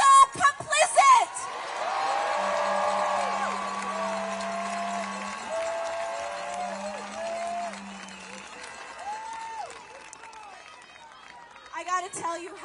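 A large protest crowd in Washington, DC, cheers and whoops for several seconds, loud at first and then fading into a sustained roar, with a speaker's voice at the start and end.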